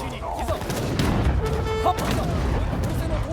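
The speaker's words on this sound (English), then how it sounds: "Just use the range of the cannons." Cannon fire from an Age of Empires III battle on the Ozarks map while Japanese troops assault walls: several booming shots crack out over a dense layer of battle noise, fairly loud and close.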